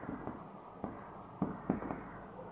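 Chalk or marker writing on a board in a classroom lesson, heard as a few short scratchy strokes and taps spaced irregularly, fairly faint and close, with no speech over it.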